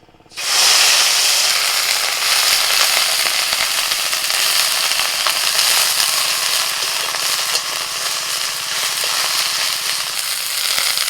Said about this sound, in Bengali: ব্রোকলিটা তেলের মধ্যে আমি হালকা করে ভেজে নিয়েছি